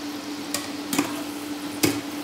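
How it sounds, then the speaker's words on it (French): A utensil stirs cooked yam and potato with vegetables in a pan: three quick scraping knocks against the cookware, spread over a couple of seconds above a steady low hum and faint sizzle. "on va le mélanger avec les légumes"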